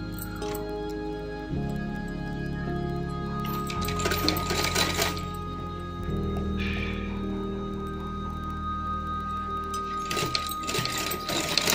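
A sewing machine stitches a fabric waistband casing with a steady, close mechanical hum and rapid needle chatter, running continuously with slight shifts in pitch and speed.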